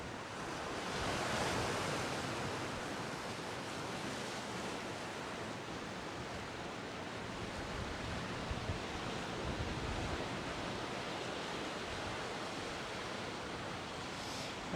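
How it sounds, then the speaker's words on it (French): Sea waves wash continuously against the shore beside a harbour basin while strong wind buffets the microphone, producing a steady, fairly quiet roar that never drops away. "aujourd'hui il y a beaucoup de vagues et il y a aussi beaucoup de vent"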